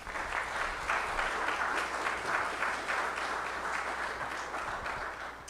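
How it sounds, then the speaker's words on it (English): An audience at a public university lecture applauds its guests, with sustained, dense clapping at moderate volume that fills the entire stretch and tapers slightly at the end. "Can you please give our guests a round of applause, please?"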